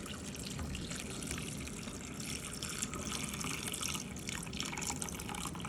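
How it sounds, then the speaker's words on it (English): Hot water pours steadily into a bowl or teacup holding squishy toys, a continuous trickling splash close by with no talking. "then you pour it into a bowl or a teacup"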